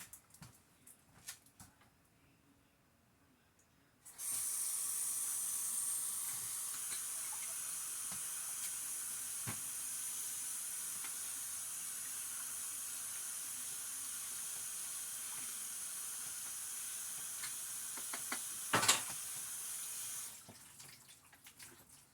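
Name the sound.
water running while rinsing salmon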